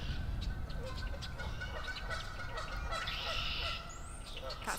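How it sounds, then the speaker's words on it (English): Geese calling outdoors at a park, honking calls over a dense background of bird chatter and steady ambient noise, moderately distant and continuous. "Got some geese"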